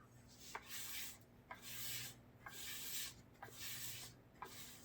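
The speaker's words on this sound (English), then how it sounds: "you want to scrape your container" A tool scrapes the sides and bottom of a container of mixed silicone for casting molds in a series of repeated rough rubbing strokes, each ending in a small knock, quiet and close with no voices.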